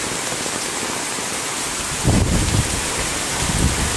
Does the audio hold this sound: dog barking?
no